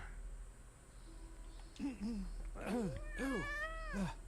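A bear-cat creature in the video game Kristala gives a series of distinct meows, several short rising-falling cries in quick succession, clear and fairly close over a quiet background hum.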